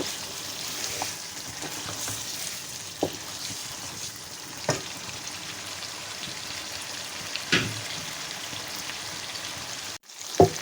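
Meat (gosht) frying with masala in a pan, a soft constant sizzle with occasional louder stirring scrapes and clinks, fairly quiet, no talk.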